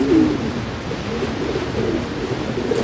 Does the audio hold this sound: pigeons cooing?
yes